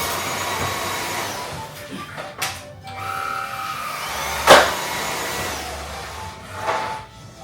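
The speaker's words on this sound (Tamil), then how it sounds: "ஸோ நல்லா வேக்யூம் எல்லாம் போட்டுட்டு இதெல்லாம் கொஞ்சம் க்ளீன் பண்ணிட்டோன்னா" A vacuum cleaner picks up sanding dust in a steady, loud roar, with a few brief bumps and louder surges as the nozzle moves.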